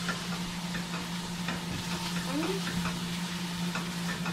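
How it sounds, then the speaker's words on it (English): Onions sautéing in a pan give a steady, soft sizzle, with occasional stirring scrapes against the pan and a constant low hum in the background. "we want to just kind of sweat this or saute just for a few minutes before we throw in our ground beef"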